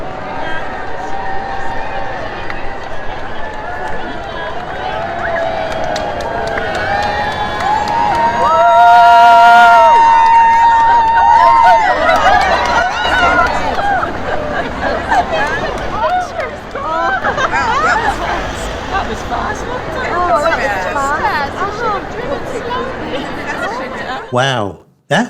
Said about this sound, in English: Listen to the crowd as the royal motorcade approaches.